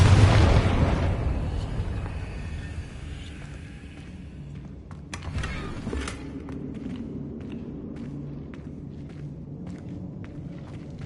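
A Confringo fire spell bursts in Hogwarts Legacy, a loud booming blast up front that decays into a rumbling tail, followed by a few sharper cracks and pops over a steady game ambience.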